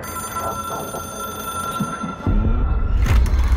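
A telephone rings in the video game Control, a steady repeating ring over a humming background, with a louder burst of low rumbling noise coming in partway through.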